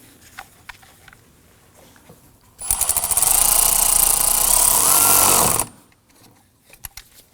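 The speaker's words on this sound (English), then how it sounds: "Going to tighten down our hose clamp here." A power tool buzzes loudly for about three seconds while a hose clamp is tightened on a Volvo XC90 intake tube, framed by quieter clicks and handling taps before and after.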